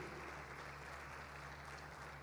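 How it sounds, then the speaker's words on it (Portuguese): Congregation applauding inside a church during a worship service, a steady, faint wash of clapping that carries on evenly for a couple of seconds. "Aplauda ao Senhor, glória a Deus."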